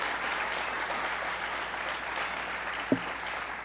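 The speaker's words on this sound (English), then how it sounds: "How about another round of applause for Laughing Fox?" Steady applause from a community audience at the KTWH Cabin Fever Reliever arts celebration, a continuous even wash of clapping with one brief knock near the end.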